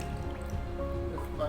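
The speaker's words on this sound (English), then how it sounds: "water is going out from the hole," Water drips and trickles out of a small hole in a plastic bottle during a home atmospheric-pressure experiment, a soft continuous liquid dribble close by with faint background hum.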